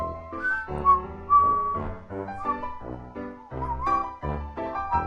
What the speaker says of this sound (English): Can you whistle Yankee Doodle round the mountain?